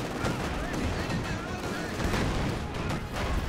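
Field guns and gunfire in a Company of Heroes 2 battle as a Panzer IV tank charges the gun line, with repeated booming shots and crackling fire mixed with a voice talking over the action.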